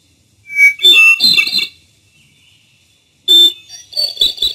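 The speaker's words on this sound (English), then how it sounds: "And hermit thrush." A hermit thrush sings clear, flute-like phrases in two bursts separated by silence, each opening on a pure held note before rising into rapid, ringing trills, close and loud.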